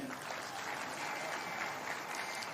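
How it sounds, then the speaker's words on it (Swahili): Steady applause from a crowd honours members of parliament at a presidential commissioning of a cement clinker plant in West Pokot County, Kenya, with dense even clapping heard at a distance and no talk. "Pigeni hawa makofi jameni."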